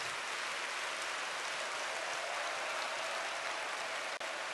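A church congregation at a Sunday worship service in Colombia applauding, a steady dense wash of clapping that fills the whole stretch at moderate level without pause, with no voices standing out.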